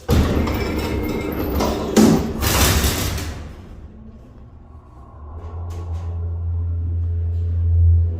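A Peelle freight elevator door on an Excelsior hydraulic lift, low on oil, rumbles and thuds as the door stop halts it, followed by a steady low hydraulic hum that swells toward the end.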